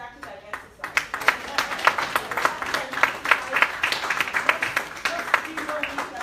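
Summit audience clapping in a steady rhythmic beat, a run of crisp, regular claps over crowd murmur, with a voice speaking at the start.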